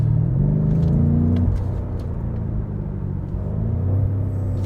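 A 2018 BMW M5 in Sport Plus mode, its transmission at the most aggressive setting, rumbles close and loud as the engine blips through stepped downshifts. Stepped engine tones drop between gears over a steady low growl, with no voices.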